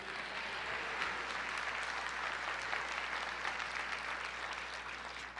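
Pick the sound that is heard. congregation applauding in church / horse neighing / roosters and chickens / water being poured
congregation applauding in church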